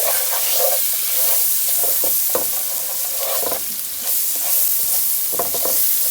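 Black pepper hits a hot pan for Southern-style fried cabbage, with a loud, close, continuous sizzle broken by scattered stirring scrapes and taps.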